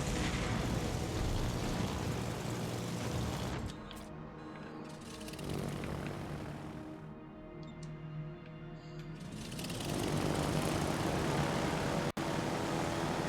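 Warplanes in a PS4 air-combat game drone and roar loudly throughout, swelling and fading as aircraft pass, with a short sharp click near the end.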